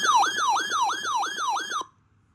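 A phone emergency alert tone blares in a loud, repeating wail of falling-and-rising sweeps, about six cycles over nearly two seconds, then cuts off abruptly into silence.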